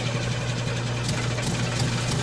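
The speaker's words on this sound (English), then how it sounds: "start the car, Killer!" A car engine in the video game Friday the 13th: The Game idles with a steady, low mechanical hum and a slight rattle, running continuously without pause.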